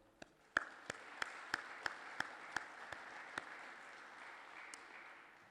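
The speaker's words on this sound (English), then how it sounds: "I would like to give him a round of applause" Sparse, rhythmic hand claps at a parliamentary intelligence and security forum, roughly ten distinct claps at an even pace, quiet and somewhat distant over a low room hiss.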